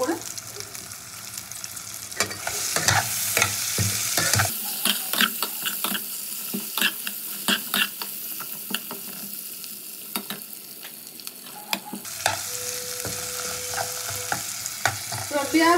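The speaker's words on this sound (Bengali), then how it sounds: "পেঁয়াজ টমেটো কাঁচা লঙ্কা এগুলো ফ্রাই করতে করতে দিয়ে দেবো" Onion, tomato and green chili fry in a pan with a steady, close sizzle, broken by repeated clattering stirs and scrapes throughout.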